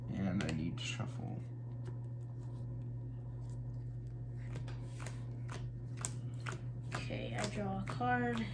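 A deck of Pokémon trading cards is shuffled by hand during a tabletop game, a steady run of soft riffling and flicking clicks close by, with brief voices in the background.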